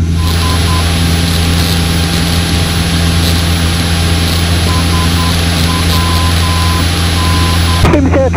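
A light aircraft flies overhead at Welshpool airfield, making a loud, steady engine drone that holds constant throughout, with a sudden shift in the sound at the very end.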